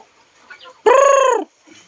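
A single loud, drawn-out squawk from a chicken rises abruptly, close by, between faint quieter background sounds.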